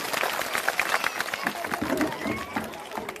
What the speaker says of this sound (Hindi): जोरदार ताली सब आदमी बजाओ प्रशांत किशोर जी।